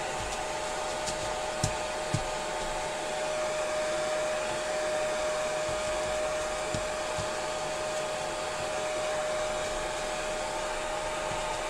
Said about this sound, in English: I won't dry it all the way with the blow dryer,